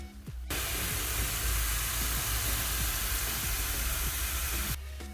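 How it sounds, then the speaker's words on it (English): Spices simmering in a pot for a Durban-style lamb curry, giving a steady close sizzle and hiss with a low bubbling rumble that runs for several seconds and then cuts off. "We'll leave this to simmer, let the spices cook for about 5 to 6 minutes."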